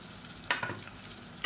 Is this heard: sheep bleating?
no